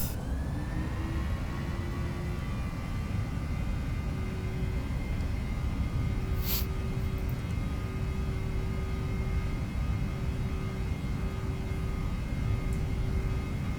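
Boeing 737-800 jet engines spooled up to takeoff power in Flight Simulator X, a steady loud broadband roar with a rising whine, held continuously throughout.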